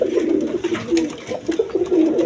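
Pigeons cooing at a pigeon seller's stall with a new collection, the birds' low throaty coos repeating in a steady rhythmic series, close and fairly loud, with no talk over them.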